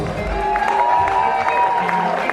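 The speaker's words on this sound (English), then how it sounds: "big round of applause" Wedding reception guests clap together in a steady round of applause, with voices and tonal background sound mixed through the room.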